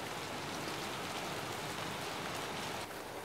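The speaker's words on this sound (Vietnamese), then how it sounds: "Tự nhiên trời đang nắng chang chang mà mưa xuống một cái." Steady rain pours down after sudden sunshine, a dense even hiss of drops on surfaces lasting throughout with no voices.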